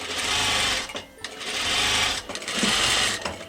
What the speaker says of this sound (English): Of course I have black dress and white thread in my machine.